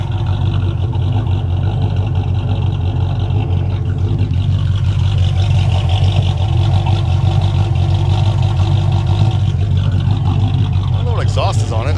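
A 1995 Impala SS with a 383 V8 fitted with a small cam and SLP Loudmouth exhaust runs loud and close, a steady deep rumble with rising revs throughout, under occasional talk.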